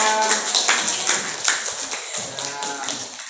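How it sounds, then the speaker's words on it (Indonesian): Classroom applause from a group of students for group 3 in a Year 12 Islamic religious education project lesson, a dense continuous patter of many hands clapping at steady loudness for several seconds, with faint voices mixed in. "tepuk tangan kelompok 3"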